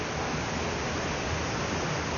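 Indoor river at Gaylord Opryland Hotel in Nashville, the Delta River, rushes in a steady, even wash of flowing water that carries on unbroken with no voices.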